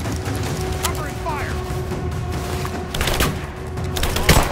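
Gunfire crackles in the video game Rise of the Tomb Raider. Loud bursts of shots come through an intense battle mix, with voices shouting over the shooting.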